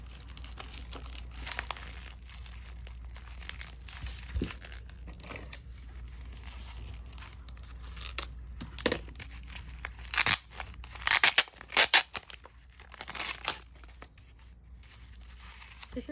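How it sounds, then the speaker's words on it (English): Crinkly snipping and rustling of scissors cutting decorative mesh for a Dollar Tree bunny craft, soft and steady at first, then a louder burst of crunchy cuts near the end, with no talking. "cutting our mesh, guys"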